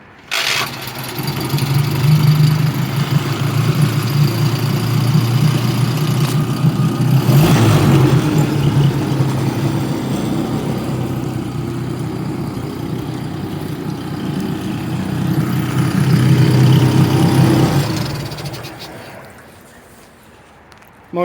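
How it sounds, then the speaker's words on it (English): A 2002 Nissan 18 hp four-stroke long-shaft outboard motor with a 3-gallon fuel tank starts right up, then idles with a steady low, loud rumble for most of the clip before cutting off near the end. "This is an 18 horsepower, 20-inch long shaft, 4-stroke Nissan Outboard engine."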